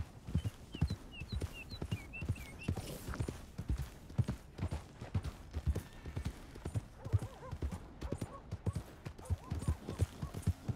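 Steady clip-clop of horse hooves at a walking pace in Red Dead Redemption 2, close and rhythmic, with some brief chirping early on and background ambience.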